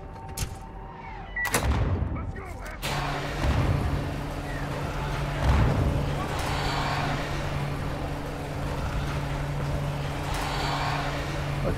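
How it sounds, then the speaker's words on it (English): A sharp sniper rifle shot cracks out in the Modern Warfare II shooter game, a loud broadband burst early on, followed by rumbling vehicle and ambient battle noise with a steady hum running through the rest. "I thought that was a sniper."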